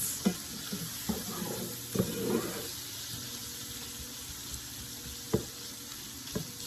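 Shrimp stirred in a hot pan while they fry, a steady sizzle broken by a few sharp scraping clacks of the utensil against the pan.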